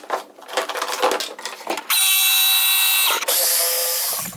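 A small handheld jigsaw cuts through a van's interior panel in a garage, its loud, steady buzzing whine running continuously for a couple of seconds, pausing briefly, then resuming, after a stretch of rougher clattering handling noise.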